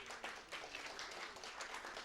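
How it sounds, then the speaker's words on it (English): An audience gives a round of applause, a faint, steady patter of many hands clapping. "I'd like us to give her also a round of applause."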